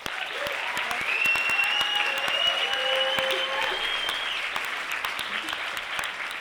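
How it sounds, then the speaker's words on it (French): Audience applause for a solo performer named Victoria at an evening show, a steady, even clapping crowd heard from a moderate distance, sustained across the whole stretch with a faint voice or tone drifting above. "je vais laisser la parole à Victoria, sous vos applaudissements"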